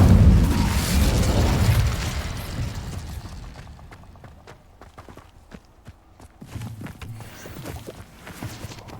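Incendio fire spell cast in Hogwarts Legacy, a loud whooshing burst of flame at the start that fades over two seconds, followed by quieter footsteps and scattered game sounds.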